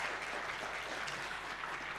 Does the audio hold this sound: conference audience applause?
yes